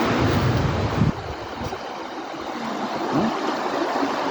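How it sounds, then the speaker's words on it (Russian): The mountain river Assa in Ingushetia's Dzheyrakh gorge, among frost-covered winter peaks, gives a steady, close rushing roar that stays fairly even throughout, with some wind-like hiss and no voices. "Красота, как слеза, чистая река."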